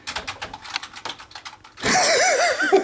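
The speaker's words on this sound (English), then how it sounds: "there is a wild Big Nick the Great working on his masterpiece with a random keyboard, doing things" Fingers tap rapidly on a random computer keyboard, producing a quick, uneven run of close clicks for under two seconds before a louder warbling tonal sound takes over.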